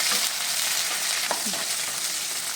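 Cumin, garlic and slit green chillies frying in hot oil for a restaurant-style dal tadka: a steady, close sizzle with a few light stirring scrapes.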